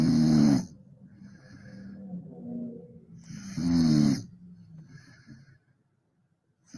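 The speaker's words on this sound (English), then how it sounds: "when your 50-pound Great Dane puppy snores like a 10-ton freight train" A 50-pound Great Dane puppy snoring close by, two long rasping inhalations several seconds apart with quieter rumbling breaths in between, then near silence.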